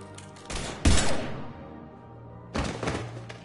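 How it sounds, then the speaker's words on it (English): Gunfire in the video game Mass Effect 3: sharp bursts of shots with heavy thumping impacts, one strong blast near the start and another volley later, separated by a quieter decaying stretch. "Now open fire!"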